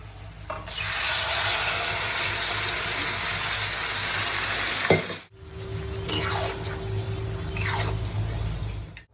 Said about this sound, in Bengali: এবার নেড়ে দিচ্ছে, একটু ফুটলে নামিয়ে দেবো।